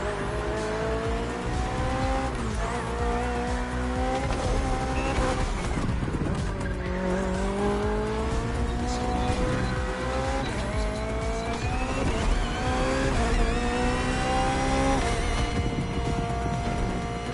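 A BMW Hybrid V8 race car in Crew Motorfest screams loud and close, its engine pitch climbing and dropping through gear shifts, with tire squeal and skidding through the corners.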